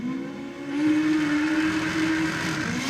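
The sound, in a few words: Honda VTEC engine revving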